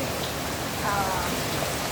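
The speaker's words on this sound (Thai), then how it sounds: "นี่แหละค่ะฝนมันตกนี่นะคะ" Steady rain falls during flooding, a dense continuous patter of drops on surfaces with no breaks, fairly loud and close throughout.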